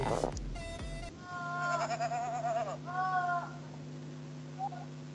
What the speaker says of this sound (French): Vous voulez écouter un peu des chèvres crier pendant 2 minutes?